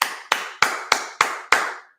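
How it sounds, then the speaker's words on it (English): A single person claps their hands six times in an even rhythm, each clap sharp, close and loud, ringing briefly before the next. "Give yourself a hand of applause."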